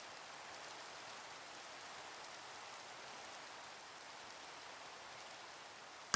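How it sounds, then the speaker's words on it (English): Steady rain falls over a Minecraft note block music session, a continuous even hiss with no other sounds, fairly quiet and uniform throughout. "Oh, thank God the rain's over. That was so distracting."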